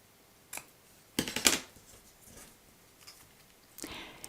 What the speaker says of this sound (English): take a pair of nice sharp scissors and clip the excess ribbon off